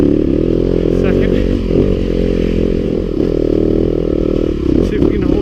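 A Yamaha YZ250FX dirt bike engine drones loud and close throughout while ridden at low speed with the clutch slipping, a steady raspy four-stroke tone with slight rises and dips.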